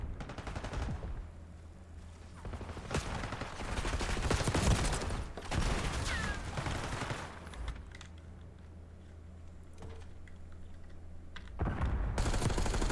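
Rapid bursts of team gunfire ring out in a competitive video game match, with fast automatic fire and overlapping shots for long stretches, fairly clear and without talk.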